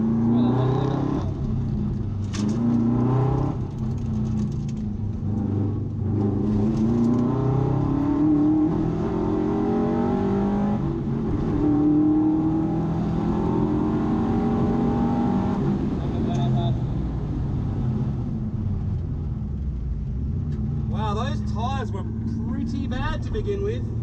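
A Subaru WRX rally car drives a muddy rallysprint stage, its engine droning and revving continuously up and down through the gears, heard close from inside the cabin with occupants talking over it.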